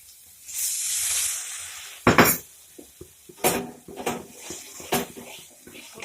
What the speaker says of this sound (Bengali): মশলাটা আমাদের কষানো হয়ে গেছে এখন মা জল দিবে